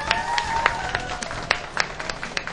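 A studio audience claps for two players after a StarCraft team league match, with scattered individual claps and a light crowd murmur rising and falling.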